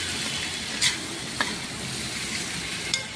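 A spatula stirs matar paneer gravy being cooked down in a pan, a soft low sizzle with a few sharp utensil clicks against the metal, quiet and without speech.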